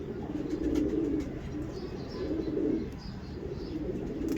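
Pigeons coo close by in a soft, low, repeating rhythm, several throaty coos in steady succession.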